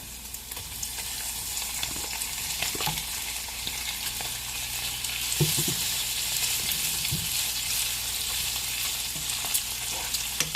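Shrimp fry in bacon grease in a pan with a steady, loud crackling sizzle that runs throughout, broken by occasional scrapes and clicks of stirring, close up with no voices.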